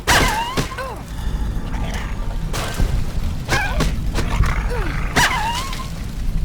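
Dogs bark and yip in the game Fallout: Tale of Two Wastelands during a firefight. Several sharp barks and yelps come in bursts over a background of combat noise and clatter.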